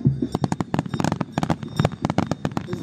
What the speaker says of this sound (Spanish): Así ha estado todo el día, puros cohetes.